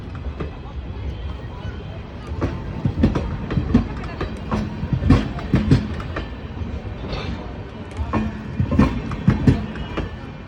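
A Howrah electric train led by a WAP7 locomotive moves through Bally station, wheels clattering over rail joints in an uneven rhythm under a steady rumble, with station announcements and crowd chatter alongside.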